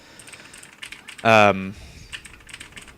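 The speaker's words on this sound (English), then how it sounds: "Whoa, keyboard." Computer keyboard keys clatter in quick irregular taps, faint and close, with a short burst of a person's voice briefly over them.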